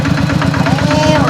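A tractor engine runs steadily nearby, its low, rhythmic chugging thump repeating evenly throughout.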